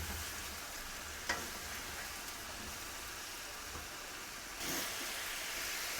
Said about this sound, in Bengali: করলাগুলো দিয়ে একটু কষাবো